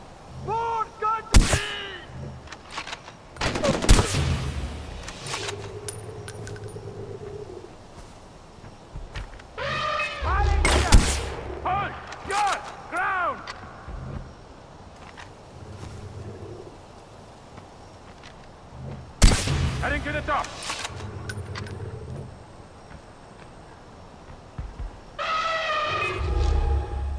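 Heavy mounted gun fire in Far Cry 4 gameplay: several loud, sharp bursts stand out from a busy game soundscape, with talk and other game noise between the shots.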